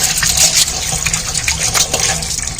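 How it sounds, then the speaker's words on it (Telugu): Water is poured over hands to rinse off hair dye, a loud, close, continuous gushing splash that lasts the whole short stretch. "చేయిలో మరి నీళ్ళు పోస్తే పోలే చూస్తారమ్మా"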